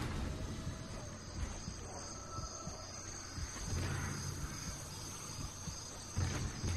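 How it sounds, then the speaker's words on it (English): Steady high crickets chirp in the background over a low ambient rumble in the video game Dead Space, with no talking. "I hear crickets. Why would I hear crickets?"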